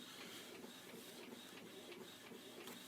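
A printer runs continuously as it prints decal sheets for model kits, giving a steady, faint mechanical hiss with light rhythmic chattering and no voices.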